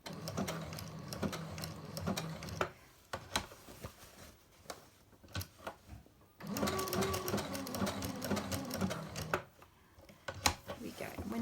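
A sewing machine appliquéing fabric with bondaweb runs in quick rattling bursts of stitching, pausing between runs as the fabric is turned, fairly quiet and close.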